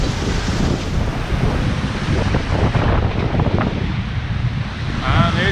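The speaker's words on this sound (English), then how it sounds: "we have a big squall here" A big squall hits a sailboat on passage from Singapore to Manila, loud gusting wind buffeting the microphone over rushing, crashing waves, continuous and rough throughout.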